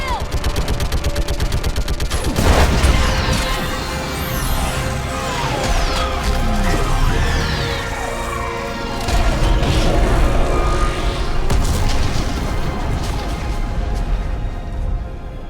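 Sustained gunfire and explosions from a Mass Effect 3 Legendary Edition cutscene battle against a live Reaper, with rapid repeated shots, a heavy blast near the start and continuous combat clatter throughout, loud and dense.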